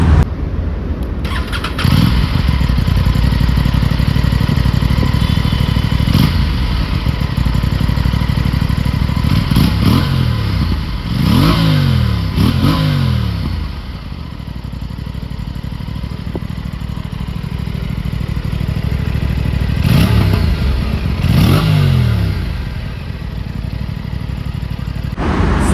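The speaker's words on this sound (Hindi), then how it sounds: "let me make you hear this beautiful exhaust note" An Aprilia RS 457 motorcycle idles loudly up close, its exhaust note broken by several sharp throttle blips that rise and fall, some in quick pairs, with the idle rumbling between them.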